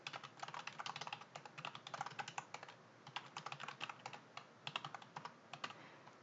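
Computer keyboard keys clatter in quick bursts and short pauses while data is entered into an Excel spreadsheet, the crisp clicks close and fairly soft.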